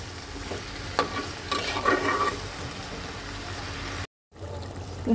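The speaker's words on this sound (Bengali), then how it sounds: "চলো এটাকে এখন ঢেকে দিয়ে সুন্দর করে কয়েক মিনিট কষাই" Bottle gourd and singhi fish curry frying in a pan, with a constant soft sizzle and several louder spoon-stirring scrapes close by. A brief dropout of silence comes near the end before the frying noise returns.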